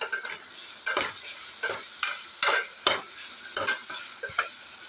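Tomatoes with ginger garlic being stirred and sautéed, soft frying sizzle broken by distinct, evenly spaced scraping strokes of a spoon across the pan, close and clear.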